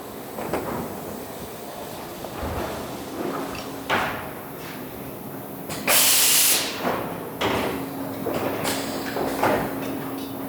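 A Commander 3 door machine auto-feeds and clamps a door, giving bursts of sliding, thumping mechanical movement and a sharp pneumatic hiss of air near the middle, with low steady hum between.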